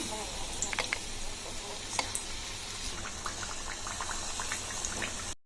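Batter-coated eggplant bajji deep frying in hot oil makes a constant bubbling hiss with scattered small pops and crackles, close and moderately loud, cutting off abruptly at the end.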